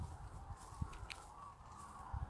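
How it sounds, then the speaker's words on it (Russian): A flock of birds calling somewhere in rural Provence in spring, a few short cries scattered over a steady background hum, fairly distant and not very loud. "Ой, слушайте, тут прям такие стаи птиц."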